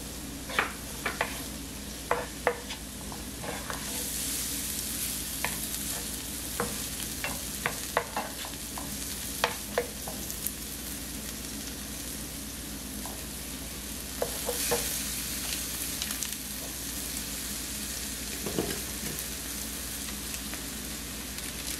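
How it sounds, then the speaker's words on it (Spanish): A mixture seasoned with salt and paprika is stirred and sautéed in a pan, giving a steady soft sizzle broken by scattered scraping clicks of the spoon, heard alone at low volume. "mezclamos bien, sofreímos bien"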